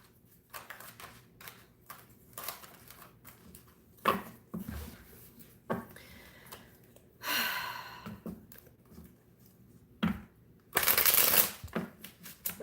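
Tarot cards being shuffled in repeated quick riffles and soft slaps, close and quiet, with a few louder bursts of riffling.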